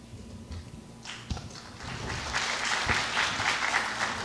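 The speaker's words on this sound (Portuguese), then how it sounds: "Acho que é a primeira vez que internauta é aplaudido num simpósio." Audience applause at an academic colloquium on a political crisis, a broad wash of clapping that swells from about one second and holds steady and fairly loud, with no talk over it.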